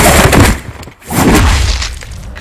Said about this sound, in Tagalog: inaampat nito ang pagpapaputok ng baril sa kanya ni Igme